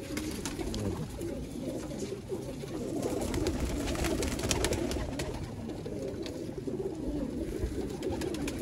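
A flock of pigeons kept for sale coos softly and continuously, many birds overlapping at close range along with rustling and fluttering.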